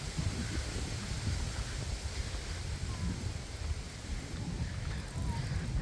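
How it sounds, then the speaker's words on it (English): Steady wind blowing through a forest park near an open field, a continuous broadband rush with low rumbling gusts and buffeting on the microphone, holding fairly even throughout. "Oh, wind."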